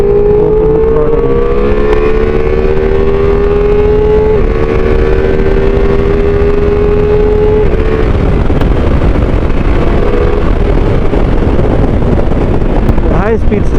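A 2025 Ducati Multistrada V4S motorcycle with its V4 engine accelerates hard with the throttle opened, its loud engine note climbing in pitch through a couple of gear changes beneath heavy, constant wind roar.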